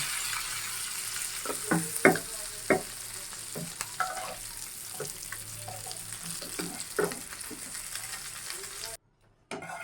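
Rohu fish frying crisp in hot oil, a steady close sizzle with repeated clinks and scrapes of a utensil, ending in a sudden cut to near silence.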